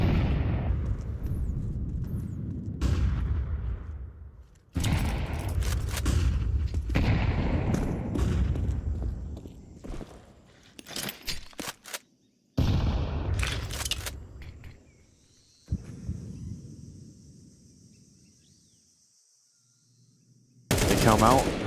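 Pistol-round gunfire in the video game Counter-Strike 2 comes as sharp bursts of shots separated by short gaps, loud and close, with one last burst after a quieter stretch.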